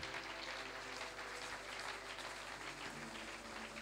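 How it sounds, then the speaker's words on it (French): A church congregation applauds in praise, a steady dense wash of clapping held at an even level throughout, with no voices standing out. "Est-ce que nous pouvons acclamer le Seigneur?"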